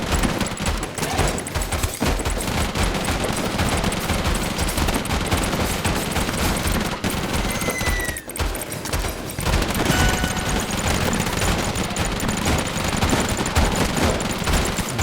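Continuous minigun fire in the zombie road-trip game Deadly Days Roadtrip, a dense, unbroken rattle of rapid shots with game effects layered on top, loud throughout with only a brief dip near the middle.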